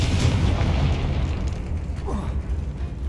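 A Confringo fire spell blasts in Hogwarts Legacy, a loud booming burst with rumbling low end that fades over a few seconds amid game ambience.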